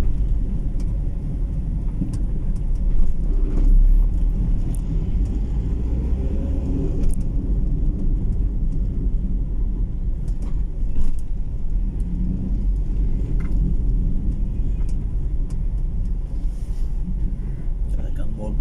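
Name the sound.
road traffic in Iloilo City, Philippines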